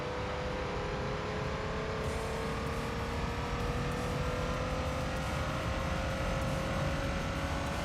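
The engine of a Mazda RX-7 race car in Gran Turismo 3 drones loudly and steadily, its pitch climbing slowly as it holds high revs for the whole stretch, with no voices.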